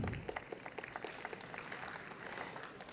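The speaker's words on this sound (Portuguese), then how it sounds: "Uma salva de palmas" Brief burst of applause from a small audience, quick irregular claps that fade slightly over a few seconds.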